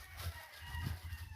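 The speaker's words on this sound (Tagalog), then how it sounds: "napatuka sa mga alaga niyang manok" Pet chickens being fed by a grandmother cluck softly in short, low bursts over a brief stretch, close by but quiet.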